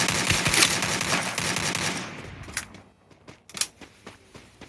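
Rapid automatic gunfire in the Free Fire battle game, a dense burst of close shots for about two seconds, then a few scattered single shots and clicks. No voices.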